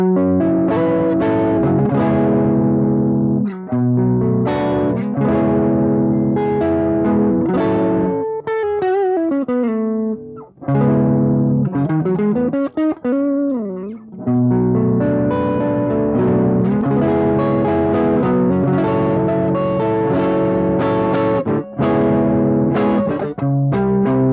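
A guitar runs through a modern Taiwan-made Boss DS-1 distortion pedal, playing loud, sustained distorted chords and riffs with a few short pauses and a bending lead passage midway, continuous and close.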